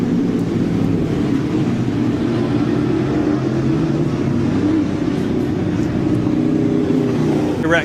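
Modified division race cars run a heat race as a loud, steady engine roar, the dense drone of several cars close by, with a faint voice now and then underneath.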